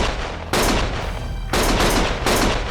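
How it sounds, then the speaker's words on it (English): Bursts of gunfire from the PS4 video game Lost Judgment, with three loud sustained volleys separated by short gaps, with no talking. "Stop shooting!"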